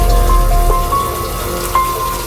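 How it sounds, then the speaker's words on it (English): A shower runs steadily throughout, a close, continuous wash of falling water with faint dripping detail and a few brief clinks, while someone takes a regular shower wearing Samsung Galaxy Buds+ earbuds. "Okay, so the shower is running"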